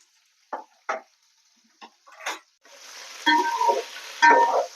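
Onions and carrots go into hot oil for a Telangana-style bottle gourd sambar: a few sharp clicks and taps, then a close, steady sizzle that swells louder toward the end.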